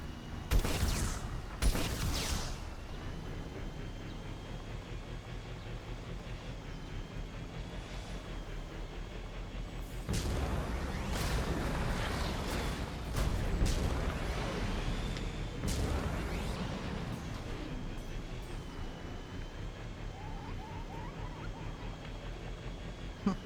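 Weapon fire in the Mass Effect 2 video game: a couple of sharp, loud bursts at the start, then a longer rattling volley in the middle, set against a quiet droning background.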